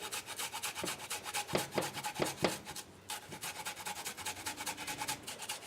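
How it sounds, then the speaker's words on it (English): Fresh ginger root rubbed against a grater, giving a rapid, near rasping scrape that pauses briefly and then continues without talk. "So I'm just going to grate that in."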